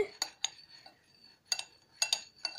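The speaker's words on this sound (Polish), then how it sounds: "Teraz mieszamy. Mieszamy, mieszamy, mieszamy." A spoon stirs a dye mixture in a cup, striking the sides in quick metallic clinks and scrapes that come in short clustered bursts, close and fairly clear, with no talking over them.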